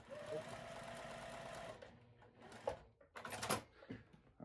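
A sewing machine stitches quilt block pieces, running in a steady fast whirring burst for a couple of seconds, then stopping amid scattered handling clicks and fabric rustles; faint talk sits underneath.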